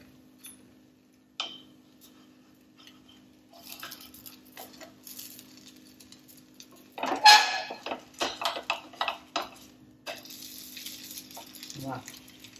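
A cucumber chilla is flipped in a pan: a few light taps, then a burst of spatula scraping and clatter against the pan over a soft sizzle, close by.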